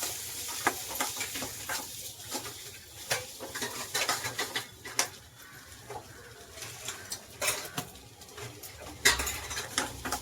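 Vegetable curry stirred in a pan with a spoon, irregular clinks and scrapes of utensil on metal over a light sizzle, close up with no voices.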